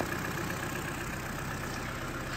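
A 2019 Chevy Trax with a 1.4-liter turbo engine idles steadily, a constant close-up mechanical hum and whir with no breaks, heard alone without voices.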